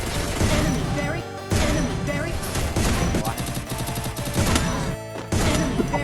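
Rapid bursts of M10 automatic gunfire in a video game, loud and dense, firing in sustained volleys broken by brief pauses.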